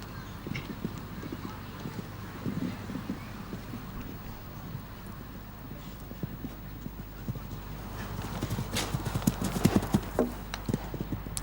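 Show-jumping horse hooves thud on turf at the Hickstead Derby, an irregular run of clip-clop beats under crowd murmur and light wind, growing busier and louder toward the end as a commentator talks.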